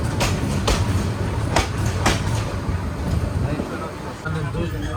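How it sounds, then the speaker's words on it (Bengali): A train arriving at Nangalkot station on the Chittagong to Dhaka route, a steady rumbling roar of carriages with a few sharp clatters early on, heard from inside with voices talking over it. "এখন আমাদের ট্রেন এন্ট্রি করছে"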